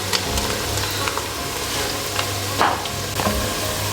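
Crushed garlic and ginger sizzling steadily in hot oil in a frying pan for an Indian aloo methi palak sabzi, a constant close crackle with a few brief stirring scrapes and no talking.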